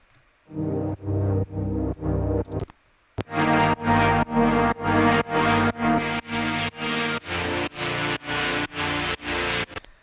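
Melodic techno synth chords pulse in a steady, evenly spaced rhythm with no upward or downward compression, dense, bright and full, after a brief lead-in and a short pause.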